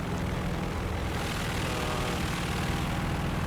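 A Bloch MB.152 propeller fighter plane in a video game drones with a steady, loud engine roar and propeller hum throughout, with no voices.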